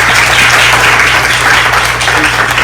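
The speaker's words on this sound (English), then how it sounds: "Let's give her a round of applause." A crowd applauds at a health clinic's grand opening, welcoming the center's doctor. The clapping is steady, dense and loud for nearly three seconds over a low electrical hum.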